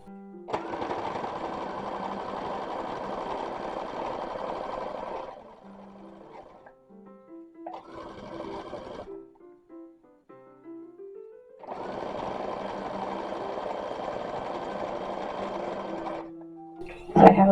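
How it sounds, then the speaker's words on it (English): A home sewing machine runs in long steady bursts, stitching the center front of a skirt on a copy of a 1920s–1930s dress, with short pauses between runs and a brief handling clatter at the end. "Stitch this down all the way up the center front."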